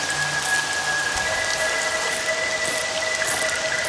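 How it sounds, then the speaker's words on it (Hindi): Steady rain patters down in an even, hissing wash, with a faint high whistling tone running through it. "टप टप करके बारिश शुरू हो गई"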